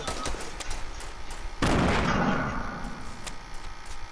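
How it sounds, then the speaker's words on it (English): Video-game gunfire in a Fortnite match: a burst of rapid shots at the start, then a loud sustained barrage of overlapping fire that tapers off, with scattered distant shots continuing. "he getting shot at by another guy"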